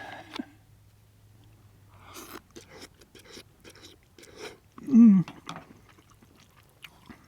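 Someone eats noodles in broth seasoned with black pepper, with close, wet chewing and crunchy bites in irregular bursts over a faint low hum, and a short voiced sound partway through.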